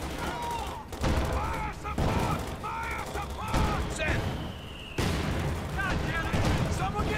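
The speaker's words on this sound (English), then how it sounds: "There must be a mortar or something up there." Mortar and artillery fire in the World War II strategy game Company of Heroes 2, Ardennes Assault: heavy booms and rattling gunfire in repeated bursts, with someone talking over the battle.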